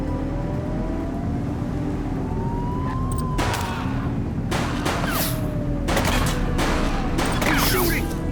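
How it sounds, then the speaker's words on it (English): Repeated bursts of gunfire from a fleeing suspect in the police game The Precinct, loud sharp cracks in clusters over a steady engine drone with a faint siren. "He's shooting!"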